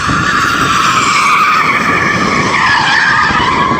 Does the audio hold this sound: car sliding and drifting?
yes